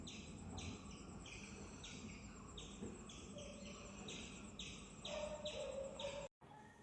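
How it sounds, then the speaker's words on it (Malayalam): Morning birdsong in a quiet setting, with squirrels also present: repeated high chirps form a steady rhythmic pattern at moderate distance, ending with a brief thump. "ഒരു സൗണ്ടും ഇല്ലാതെ നല്ല ശാന്തമായിട്ട് ആ കിളികളുടെ സൗണ്ട് മാത്രം നമുക്ക് കേൾക്കാൻ പറ്റും"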